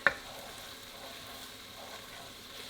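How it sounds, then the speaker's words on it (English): Whole garlic cloves dropped into a pan of sizzling onions, giving a brief bright crackle at the start before settling into a steady, soft frying hiss with no talk. "you want to make sure to add in 2 cloves of garlic"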